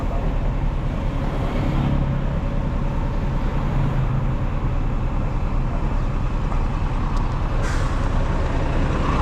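A truck on the road hauling a container van: a steady loud engine drone with rumbling road noise dominates, with a brief hiss of an air brake near the end.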